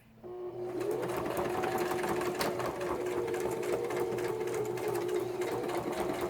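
A sewing machine runs steadily, stitching added paper pages into a handmade journal with a zigzag stitch; the motor starts after a brief pause and then hums continuously and close up, with no talking.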